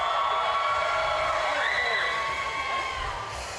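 A crowd cheering for the blue team at a FIRST robotics event in South Carolina, a dense wash of shouts and whoops filling an indoor venue at a steady level before easing slightly at the end.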